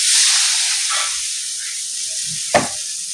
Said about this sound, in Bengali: ওই জল দিয়ে দিলাম